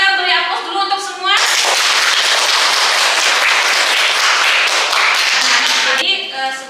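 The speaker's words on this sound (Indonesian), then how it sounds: "Sekarang kita beri aplaus dulu untuk semua" A group claps enthusiastically in a genetics lesson, dense applause lasting several seconds, with a teacher's voice speaking just before and after it.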